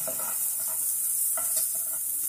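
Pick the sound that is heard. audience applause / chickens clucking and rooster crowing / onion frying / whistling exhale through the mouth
onion frying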